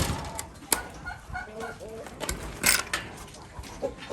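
Barred Rock and New Hampshire chickens on a farm, with soft clucks and short calls scattered over a few seconds, fairly close but quiet, mixed with rustling.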